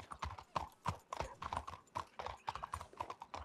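Horse hooves clip-clop steadily and close in a video game, a quick, even rhythm of sharp hoof strikes with no talk over it.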